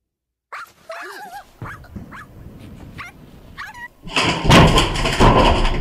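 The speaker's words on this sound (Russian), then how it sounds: "Гребаные собаки!" Several dogs bark, yelp and whimper in a burst of overlapping calls, starting with scattered sharp barks and swelling into a loud, dense chorus of barking near the end.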